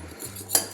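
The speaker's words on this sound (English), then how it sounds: "So we're just going to give it a quick mix together." A spoon clinks briefly against a bowl while mixing ingredients together, one short close metallic scrape and tap in an otherwise quiet moment.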